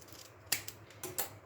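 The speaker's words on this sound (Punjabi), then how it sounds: "ਛੋਟਾ ਜਿਹਾ ਪੀਸ ਐਵੇਂ ਕੱਟ ਲੈਣਾ" Scissors snip a small piece of tape, two or three crisp, quick close cuts in quiet surroundings.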